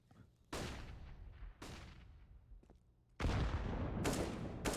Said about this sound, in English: Beautiful nade onto Nico there